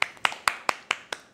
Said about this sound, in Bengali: এটা ভাই সবাই হাততালি দিয়েছে আমাদের ফ্লোরে যারা